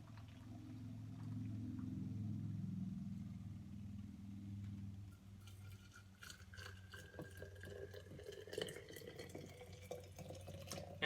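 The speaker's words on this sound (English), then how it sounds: "pouring out my 2 cups of boiling water. It's pretty steamy." Boiling water being poured out, two cups' worth, giving a quiet trickling splash after a steady low hum fades, faint and unhurried with scattered drips near the end.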